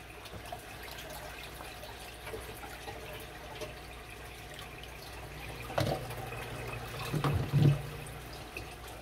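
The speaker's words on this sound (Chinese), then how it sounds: "一直加水而已" Water being added to a fish tank, with a soft continuous trickle and bubbling that swells into louder splashing pours near the end.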